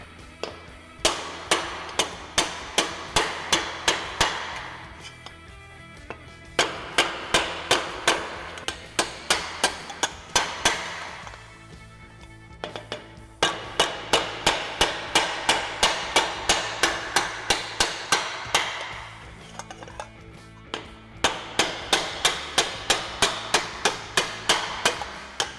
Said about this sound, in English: So what we need to do now is hammer these wrinkles out